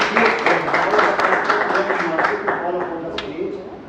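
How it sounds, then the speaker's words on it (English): An audience breaks into applause, a dense patter of many hands clapping that fades slightly toward the end, with voices audible underneath. "Can we have a big round of applause?"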